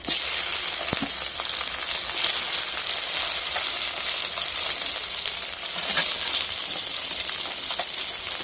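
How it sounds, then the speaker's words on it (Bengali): Tomatoes fry in hot oil after dried red chillies, garlic and black mustard seeds, giving a loud, dense, unbroken sizzle with sparse pops and stirring taps. "ভাজা হয়ে গেছে এবারে টমেটোগুলো দিয়ে দিয়েছি"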